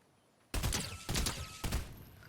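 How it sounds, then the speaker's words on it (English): A DMR rifle in the Fortnite video game fires three loud, sharp shots about half a second apart after a short quiet start, each trailing off with a brief echo. "So this guy's using the DMR."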